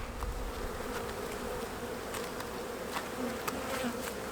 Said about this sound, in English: Bees are getting bad.